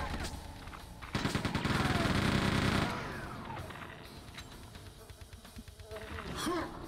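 Weapon fire in the video game Quake II, a fast stuttering burst of rapid shots for about two seconds followed by scattered quieter game effects, with no talking.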